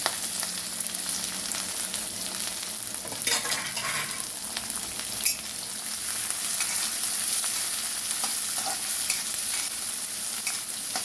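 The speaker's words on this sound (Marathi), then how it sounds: "याला गरम होईपर्यंत त्याला खालवर करत राहायचं" Chopped curry leaves, green chillies, capsicum and onion sizzle in hot oil in a pan, a steady close frying hiss broken by occasional scraping and clinking as a spoon stirs them.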